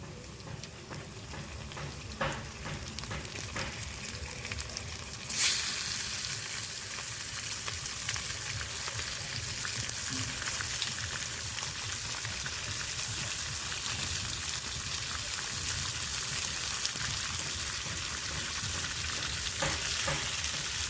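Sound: meat frying with fried onions in a pan

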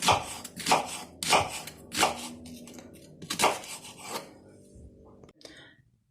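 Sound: knife chopping onions

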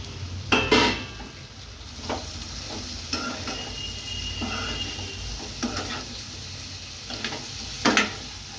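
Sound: stirring ivy gourds with onions in a pan

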